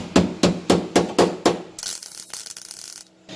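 Five evenly spaced, loud hammer blows ring out on a welded metal patch on an RX-7 body, followed by a steady hissing, whirring workshop noise that cuts off abruptly.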